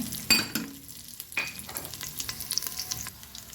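Cumin, garlic, curry leaves and a broken dried red chilli hit hot tempering oil for a greens curry, giving a sharp sizzling burst with a few clinks and stirring, then a steady soft crackle.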